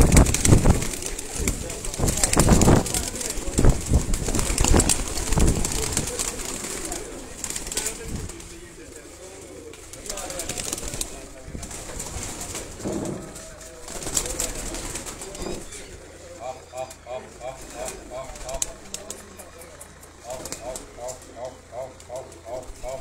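Pigeons coo repeatedly, with soft, throaty calls and an occasional flutter of wings, somewhere nearby. People talk over them much of the time, and the cooing comes through more clearly toward the end.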